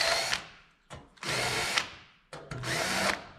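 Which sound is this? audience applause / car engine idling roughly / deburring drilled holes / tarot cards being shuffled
deburring drilled holes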